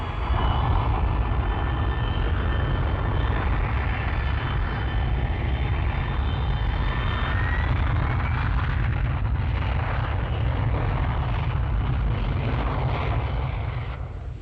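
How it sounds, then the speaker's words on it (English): Hawker Siddeley Kestrel VTOL jet taking off vertically from a grass field: a loud, continuous broadband jet roar with a whining upper tone, holding steady close by before easing slightly at the end. "Orders come through and this jet jumps off its grass field for action."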